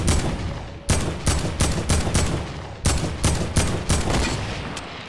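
Video game gunfire plays as a run of rapid bursts, two clusters of loud, close shots separated by brief pauses, with one faint final report. No talk is heard over the shooting.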